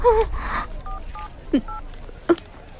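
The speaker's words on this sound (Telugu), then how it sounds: "ముందు శ్రీకాంత్ ఫోన్ చేయి" A telephone keypad gives a few short, evenly spaced beeps as a number is dialed, mixed with a brief gasp and breathy sounds, in a scene from a Telugu film.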